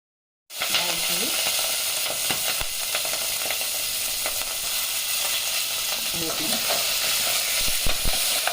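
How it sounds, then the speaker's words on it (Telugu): Soaked almonds and rice fry in a pan with a loud, continuous close sizzle that starts abruptly after a brief silence, with stirring scrapes and occasional spatter pops layered on top. "ఇది ఫ్రై చేసుకోవాలండి. బాదం బియ్యం నానబెట్టేసి బాగా ఫ్రై చేసుకున్నాం"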